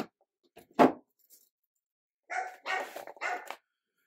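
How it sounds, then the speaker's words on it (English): Dogs barking at dinner time indoors, one sharp loud bark followed after a pause by a cluster of several quicker, slightly quieter barks, with a faint jingle of tags or keys. "the dogs are going to bark because it is dinner time"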